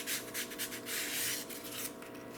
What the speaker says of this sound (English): Dragging our sandpaper.